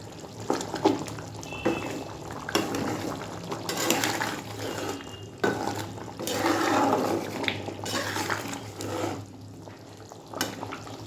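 Rita fish head and potato curry simmering in a pot with garam masala: continuous close bubbling and sizzling with intermittent stirring and scraping, no voices.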